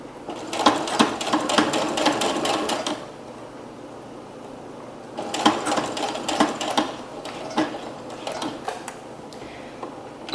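A Brother embroidery machine used as a regular sewing machine stitches prom dress fabric in two rapid mechanical bursts of needle clatter, with a quiet pause between them and a softer, broken run near the end.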